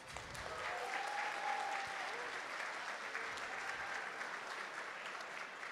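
An audience at a plenary session applauds its event sponsors, a steady, fairly distant wash of clapping that holds evenly from start to finish with no speech.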